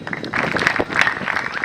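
Brief applause from a crowd gathered at a school event to honor a reverend, steady clapping with a voice faintly underneath.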